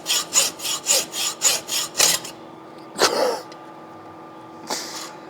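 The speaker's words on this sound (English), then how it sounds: "here's a hacksaw job" A hacksaw cuts through a metal shaft piece for a wheel dresser and finger rest stand, giving about eight quick rhythmic back-and-forth strokes. After a pause come a scrape and a final softer stroke.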